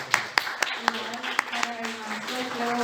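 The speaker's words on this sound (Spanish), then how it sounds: "un aplauso." An audience at a humanities lecture in Tijuana claps in brief scattered bursts that swell into fuller applause, with a voice speaking over the clapping.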